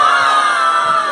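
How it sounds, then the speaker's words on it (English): A group of children at a drag queen story hour in Fresno scream and cheer loudly together, a sustained, dense crowd yell lasting about a second with no pauses. "I want everyone to scream really loud."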